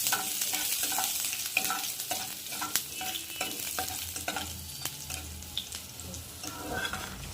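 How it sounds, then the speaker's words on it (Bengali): Chopped ginger and garlic fry in hot oil for chilli chicken, a steady close sizzle under quick irregular stirring scrapes and spoon taps. "প্রথমে আমি আদা রসুনটা দিয়ে দেবো, টুকরো করে রাখা আদা রসুন। এটাকে একটু ভালো করে ভেজে দিতে হবে।"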